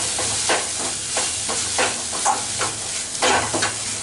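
Curry leaves and coriander leaves frying for kothu parotta, a steady close sizzle with rhythmic scraping and stirring strokes pulsing roughly every half second throughout.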